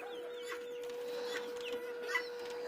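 Five baby chickens cluck and peep softly, a few faint scattered calls over a quiet background with a steady tone running underneath.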